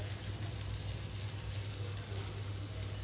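A sooji ravva dosa fries on a hot pan, giving a steady, close hiss of sizzling oil throughout with no voices.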